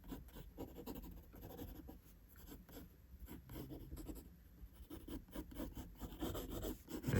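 A pencil draws dark outlines of a figure's body and clothing on paper in quick, soft scratching strokes that repeat steadily at close range without talk.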